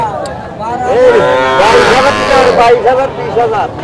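Cattle at a cattle market low in a loud, drawn-out moo close by, with a shorter call following, amid voices.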